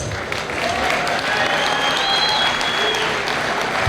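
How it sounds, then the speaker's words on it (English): A crowd at a commemoration of the Delano Grape Strike gives a loud, sustained round of applause, with dense clapping and a few faint whistles or shouts throughout. "One more round of applause"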